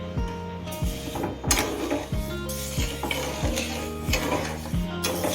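A utensil scrapes and knocks against a pan as a Karachi halwa mixture is stirred over the heat, giving regular rhythmic metallic clanks about twice a second, close and fairly loud, with a faint sizzle underneath.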